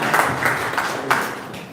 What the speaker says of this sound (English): With the permission of the chair, we can give a round of applause